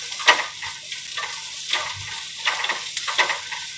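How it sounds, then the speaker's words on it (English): Vegetables stir-frying in a pot over high heat for a one-pot Vietnamese pho soup, a steady loud sizzle with repeated scraping stirs and clatters of a utensil against the pot, no talking. "start stir frying all the vegetables"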